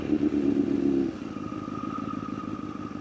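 A liter-class sport motorcycle rides through the night, its engine loud and steady, with a heavier rumble for the first second before settling into a lighter, even drone with a faint high whine.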